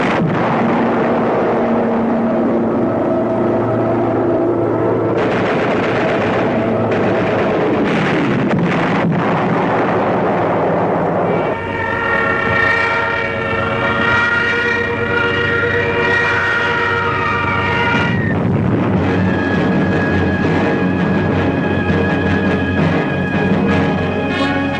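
A Stuka dive-bomber's siren screams in sustained, wavering tones over a constant roaring engine and wind noise, loud and close throughout.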